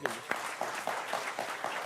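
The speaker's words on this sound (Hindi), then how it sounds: "तालियां आपके लिए।" Applause for a speaker at a political talk on parliament, steady broadband clapping from a small crowd with scattered louder claps, moderately faint and continuous throughout.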